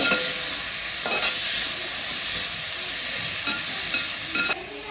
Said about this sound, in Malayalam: ചേനയും കായും എല്ലാം കൂടെ നമുക്ക് ഇട്ട് കൊടുക്കാം. എണ്ണയിലോട്ട് കൊടുത്തിട്ടുണ്ട്. എല്ലാം കൂടെ ഒന്ന് മൂക്കട്ടെ, ഒന്ന് വഴറ്റിയെടുക്കാം.